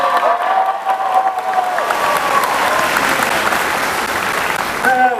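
A convention crowd at Comicpalooza 2022 claps loudly after a fast magic knot trick, dense applause swelling and holding, with a voice briefly heard near the start and end.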